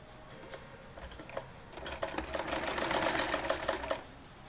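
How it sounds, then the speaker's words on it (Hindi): Sewing machine stitching along the folded bottom hem of a gathered side-slit kurti, a rapid rhythmic clatter that starts softly and builds to steady, louder running before stopping abruptly, close by with no talking. "फोल्ड करते हुए इस पर हम सिलाई लगाएंगे।"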